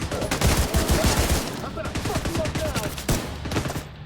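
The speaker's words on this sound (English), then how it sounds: "my turret is still shooting on Pog." An automated turret in Tom Clancy's The Division 2 fires rapid bursts of gunfire, crackling shots that come in clusters, with brief gaps and a short fresh burst near the end, all over game sound.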